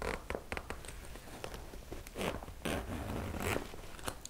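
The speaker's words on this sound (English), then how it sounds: "So this zipper here, the little zipper" A small zipper on a bag is pulled open near the microphone, giving quiet, scratchy bursts of rasping teeth in short uneven strokes with brief pauses between them.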